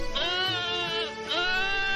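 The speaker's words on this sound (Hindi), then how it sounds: "इतनी रात गए मेरी बकरी इतना चिल्ला क्यों रही है?" A goat bleats loudly and insistently at night, a long wavering cry that swells, dips briefly and rises again, close and continuous with no talk.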